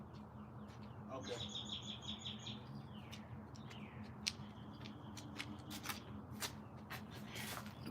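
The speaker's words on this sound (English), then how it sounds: "The birds chirping where I'm at" Birds chirp outdoors with several short tweets and a brief trilling call at a moderate distance, over faint background rustling and scattered clicks.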